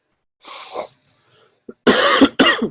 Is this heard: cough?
yes